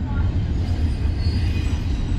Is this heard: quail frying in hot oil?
no